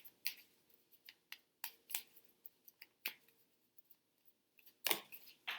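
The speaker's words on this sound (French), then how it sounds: "vous mélangez vos cartes" Petit Lenormand cards being shuffled by hand, a run of crisp, irregular flicks and riffles close by, with a louder flurry near the end and no talking.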